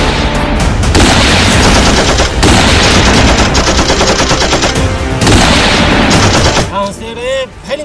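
Loud, rapid bursts of automatic gunfire fill an action scene in a Sindhi telefilm, cracking almost nonstop before breaking off into a brief voice at the end.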